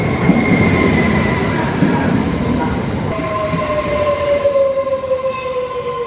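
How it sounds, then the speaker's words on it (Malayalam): Bernina Express train running through Switzerland, heard steadily from inside a carriage: continuous rumble and rail noise with drawn-out tonal wheel squeals that rise and fade throughout. "അങ്ങനെ നമ്മൾ തിരാനോയ്ക്ക് പോകുന്ന ട്രെയിനിൽ കയറിയിരുന്നു."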